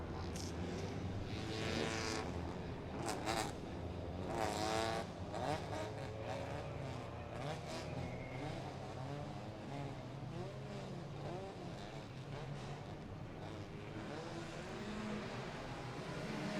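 Racing cars at a Toyo Tire Schaeffler Racing Car Thailand 2022 rolling start, engines droning loud and steady with revving surges and passing whooshes over about sixteen seconds, with no talk.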